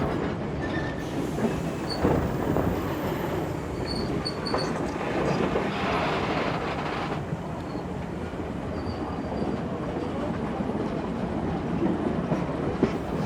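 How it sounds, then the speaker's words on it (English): A train pulling into Hawkesbury River station in New South Wales, heard as a steady rumble of rolling wagons with a faint squeal of wheels near the start, continuous and fairly close, with no voices. "The train now arrives at its destination"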